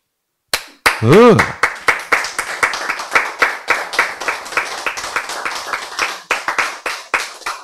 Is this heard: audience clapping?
yes